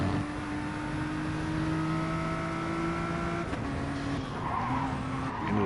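A Nissan GT-R race car in a racing game drones through its engine note at steady speed, with tyres scrubbing and squealing under the constant roar, no voices over it.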